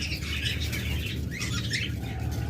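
Lovebird pairs at a bird sale fill the air with dense, overlapping chirps and tweets, steady and fairly loud, over a constant low hum of the surroundings.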